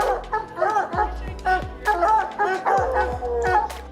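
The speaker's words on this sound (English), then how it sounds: "obviously the dogs are barking their absolute heads off" Hunting dogs barking and yipping frantically at a mountain lion up a tree, loud close repeated barks with howling whines between them and some voices mixed in.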